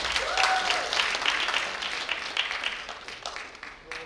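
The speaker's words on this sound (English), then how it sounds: "a big round of applause for all the nursing students" Audience at a medical conference applauding nursing students, a dense, sustained round of clapping from a crowd that gradually thins toward the end.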